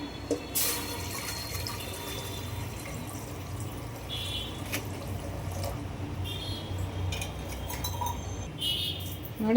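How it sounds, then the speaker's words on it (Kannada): Water pours and splashes into a metal pressure cooker in a steady stream, with occasional clinks and drips nearby. "ಕುಕ್ಕರ್ಗೆ ನೀರು ಹಾಕ್ತೀನಿ ನೋಡಿ."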